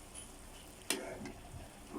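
A single quick scrape of a spoon through adobong sitaw in a pan, fairly faint, with a low simmering hiss before and after and no talking.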